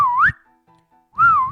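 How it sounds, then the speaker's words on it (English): A person whistles two short rising-and-falling tones, each lasting a fraction of a second, close and clear with a near-silent gap between them. "Whistle."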